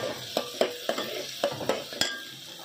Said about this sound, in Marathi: आता आपण टमाटर टाकायचं आहे। आता हलवून घ्यायचं आहे।